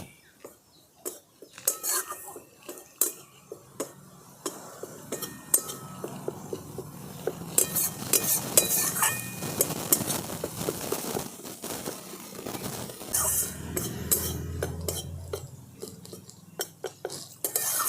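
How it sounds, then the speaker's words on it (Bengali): Dry gram flour (besan) stirred and roasted in a hot kadai, a steady scraping and clinking of spoon against metal running throughout, with scattered sharper knocks and no talk. "বেসনটাকে আমি একটু হালকা করে ভেজে নেব"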